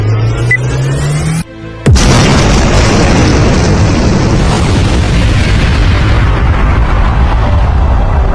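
The atomic bomb explosion over Hiroshima: a rising hum drops into brief near-silence, then a sudden massive blast erupts into a sustained, loud rumbling roar that slowly fades.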